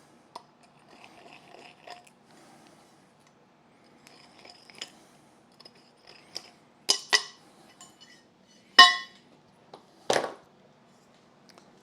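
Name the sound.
deburring drilled holes in crossbar with deburring tool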